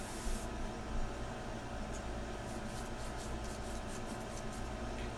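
An airbrush sprays India ink in a steady, close, soft hiss that runs unbroken for a few seconds, with faint flutters in the airflow and no voices.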